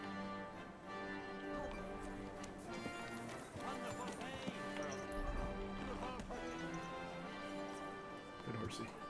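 Horse hooves clip-clop steadily in a video game, a continuous mid-level trotting rhythm under music and occasional talking.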